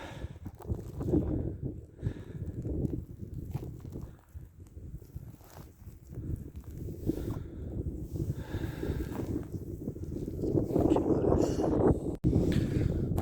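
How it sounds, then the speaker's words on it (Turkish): Gusty wind buffets the microphone in uneven rushes, rising and falling, with occasional faint footsteps or movement underneath. "Hava da çok rüzgarlı."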